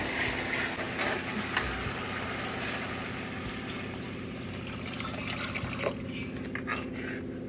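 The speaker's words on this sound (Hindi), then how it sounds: "देखो इतना पानी घेरेंगे।" Water pours into a cooking pot for Maggi on a home stove, a steady close trickle and splash running throughout with no talk.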